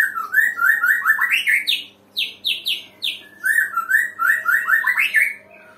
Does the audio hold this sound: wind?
no